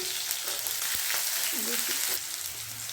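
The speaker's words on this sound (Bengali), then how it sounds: "একটা শুকনো লঙ্কা, কটা কাঁচা লঙ্কা, টমেটো কুচি আর এই হিং দিয়ে এটাকে আমি একটু ভেজে নিচ্ছি।" Dried chili, green chilies, chopped tomato and asafoetida fry in hot oil for a sambar tempering, a close steady sizzle with a few spoon clicks and a short murmur of voice.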